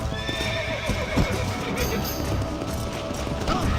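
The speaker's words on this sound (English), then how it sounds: "Meu cavalo bugou." A horse in the Red Dead Redemption remaster whinnies loudly over a quick clip-clop of hooves, with game noise around it.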